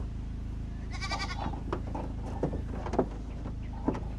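A goat bleats once in a wavering, nasal cry, followed by a few scattered knocks and rustles against a steady low background hum.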